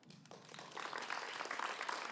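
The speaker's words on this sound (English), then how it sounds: "Another round of applause for that" A crowd at a Calgary Ward 7 debate applauds, starting thin and swelling after a moment into fuller, steady clapping that runs to the end.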